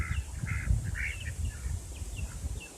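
Young birds call in short, repeated chirping bursts, at moderate distance over a low, rumbling outdoor background.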